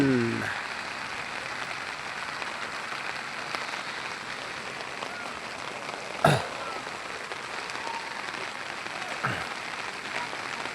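Steady rain hissing across a surface, a continuous wash of drops with a brief louder knock partway through and a faint voice at the start.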